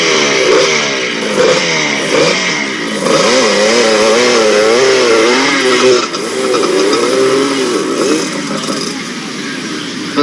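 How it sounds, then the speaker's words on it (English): A motorcycle engine revs hard and loud throughout, its pitch rising and falling in wavering surges, ridden by a zombie in a film scene, with voices faintly mixed in. "Why is a zombie riding a motorcycle?"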